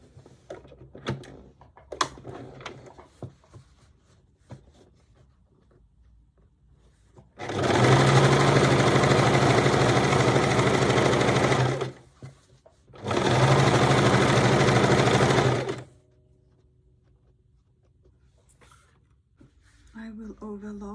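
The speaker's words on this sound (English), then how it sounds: "Sew the lining together, and I will leave about 15 centimeters gap." A sewing machine stitches the denim lining of a large tote bag in two loud continuous runs of rapid mechanical whirring, separated by a short pause, with quieter handling clicks and rustles before and after.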